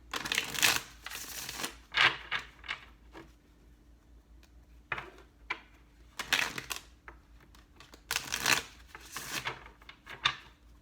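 Tarot cards being shuffled by hand in several separate bursts of riffling and flicking, with quiet pauses between, close and fairly soft.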